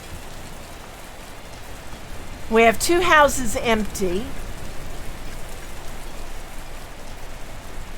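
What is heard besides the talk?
pouring rain in the video game Patron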